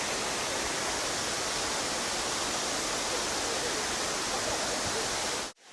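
Hidden waterfall in Nova Scotia, a continuous loud roar of rushing, crashing water filling the whole clip before cutting off abruptly at the end.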